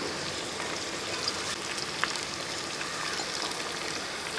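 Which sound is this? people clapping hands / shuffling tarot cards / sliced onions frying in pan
sliced onions frying in pan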